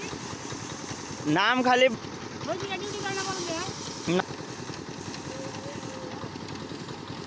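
An electric paddy threshing machine runs with a steady, even mechanical drone throughout, while people talk nearby over the constant hum.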